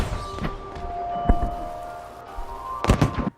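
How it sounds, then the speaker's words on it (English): Fireworks pop and crackle in Batman: Arkham Asylum, with a few scattered bursts early and a denser cluster near the end, set over a faint background music tone. "The fireworks add such a nice touch"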